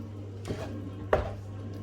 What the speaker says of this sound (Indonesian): Nah ini kita aduk terus sampai dia mengental dan panas dari kuali ini turun ya.